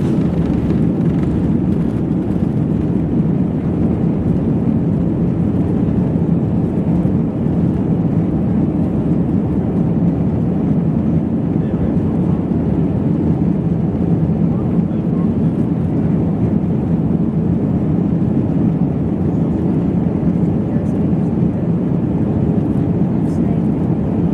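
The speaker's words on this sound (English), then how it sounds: "Here's a video of the plane taking off." Steady, loud jet engine roar that holds a constant low rumble throughout, like an airliner powering down the runway on takeoff.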